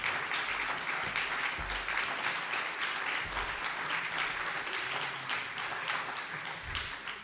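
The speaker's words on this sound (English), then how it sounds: "there'll be more time for clapping and acknowledgement" A congregation applauds during a Sunday worship service, a dense sustained clapping from a crowd that holds steady for several seconds and eases slightly toward the end, no talk over it.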